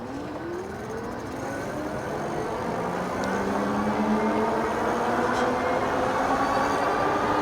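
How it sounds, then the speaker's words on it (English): Engwe EP-2 Pro electric bike accelerating on twist throttle, a rising whine sweeping upward over steady wind and road rush, moderately loud and continuous. "Now I'm just gonna do the twist throttle. Let's see how fast we can go"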